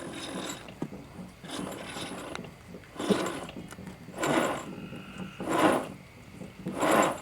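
A transmission torque converter is rotated by hand on a workbench, giving quiet scraping, rubbing and faint ratcheting mechanical noises in repeated swells, each turn a soft grinding rasp, with no talking.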